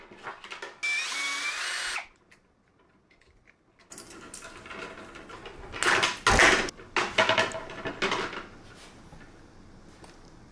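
Cordless hand drill twisting electrical wires together, several short whirring bursts separated by quiet gaps, with clicks and handling noise between runs.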